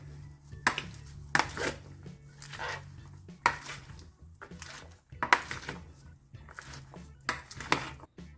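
Chickpea and roast pumpkin salad with rocket being tossed through its dressing in a bowl, giving a series of irregular, close rustling and clattering bursts separated by short quiet gaps.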